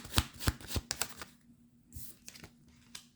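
Tarot cards shuffled and drawn, a run of crisp, close card snaps and flicks in quick succession, then a pause and a few more scattered flicks, with no voices.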